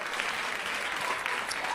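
A stand-up comedy audience claps steadily for a short stretch, with dense, even applause and no speech on top.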